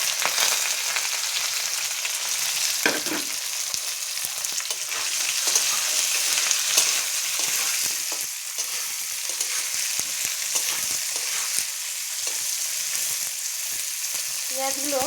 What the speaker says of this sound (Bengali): এবার তেলে দিয়ে দেবো গোটা গরম মশলা আর পেঁয়াজ কুচি আর লঙ্কা দুটো।